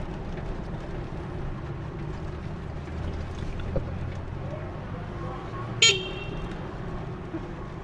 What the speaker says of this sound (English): So if you're wondering why I'm honking, sometimes I have to make a sign to the next